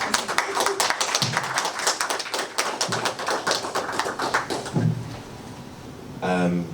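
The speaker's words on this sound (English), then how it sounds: "Please round of applause." Audience applause welcoming a keynote speaker at a conference, a crisp run of many close claps lasting about five seconds before dying away, followed by a voice beginning to speak.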